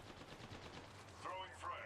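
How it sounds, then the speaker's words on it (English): Gunfire in a shooter video game rattles in quick, faint bursts, with a voice speaking over the shooting. "Target spotted. Opening fire."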